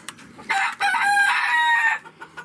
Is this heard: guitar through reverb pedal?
no